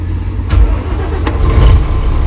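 A mobile crane's diesel engine turns over and runs at a loud, steady low rumble, close by, with a couple of heavier surges.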